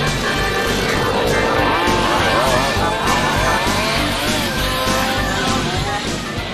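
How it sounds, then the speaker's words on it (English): A 1/5 scale radio-controlled race car runs on unleaded fuel with a continuous high-pitched small-engine whine. Warbling tire squeals keep sweeping up and down through it at close range, loud and unbroken. "The squeal of hot rubber."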